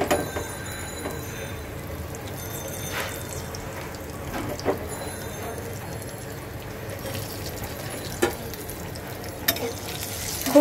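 Boiled potatoes fry lightly in a pan for a fish curry, making a steady low sizzle broken by occasional clicks and scrapes of stirring, close and fairly quiet, with faint water sounds in the background.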